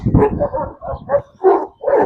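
Kangal shepherd dog barking close by, a quick series of about five deep, loud barks with short pauses between them.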